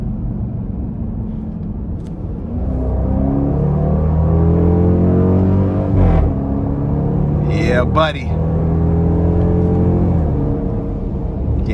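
A 2024 Dodge Durango R/T FJR-X with an upgraded aggressive exhaust rumbles and revs in a steady loud pull, one brief sharp surge near the end, while someone talks over it.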